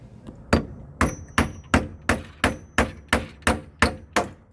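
A small hammer drives a toggle bolt into a wall with about ten sharp, evenly spaced whacks, each a crisp close knock with a short ringing decay and no talking.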